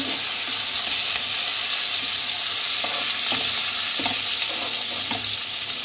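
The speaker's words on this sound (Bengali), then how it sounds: "এরপর আমি এতে রসুন দিয়ে দেবো আর কাঁচা লঙ্কা দিয়ে দেবো, দিয়ে এটাকে নেড়ে চেড়ে" Garlic and green chili sizzle steadily in a hot pan while being stirred, for a prawn malai curry, with soft scraping and clicks of the spoon over a continuous close frying hiss.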